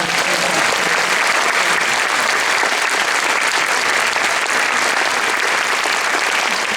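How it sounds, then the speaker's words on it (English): A large audience applauds at a festival opening night, a dense, loud and continuous roar of clapping that holds steady throughout. "We can give a round of applause."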